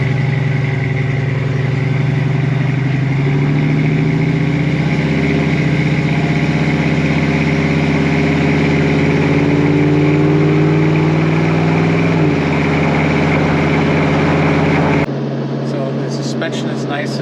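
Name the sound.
1970 Chevrolet Camaro 396 big block V8 engine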